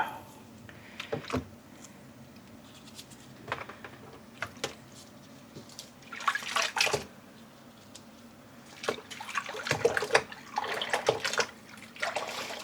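Hand-dyed yarn rinsed in a tub of water, with soft irregular sloshes and splashes in bursts, close and quiet, against faint room noise.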